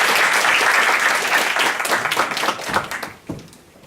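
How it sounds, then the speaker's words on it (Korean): Applause from a church audience welcoming a guest preacher at a 2016 freshman welcome worship service, dense sustained clapping that holds steady for about three seconds and then thins out and fades. "박수로 환영하겠습니다"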